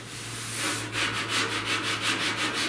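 Body filler being sanded by hand on a truck cab corner during dent repair, a steady rhythmic rasping of strokes close up, about eight even back-and-forth passes with a low hum underneath.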